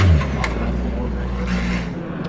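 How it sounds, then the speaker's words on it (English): Race car number 77 idles roughly at Silverstone after just firing up, a low uneven engine rumble holding steady through the moment with faint crackles on top. "Charles Hall there, car number 77, and it's just fired up. You can just hear it's just fired up."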